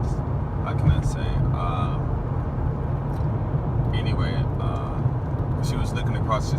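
Car cabin noise while driving toward Ashiya: a steady loud low rumble of engine and road fills the whole stretch, with a person talking over it throughout.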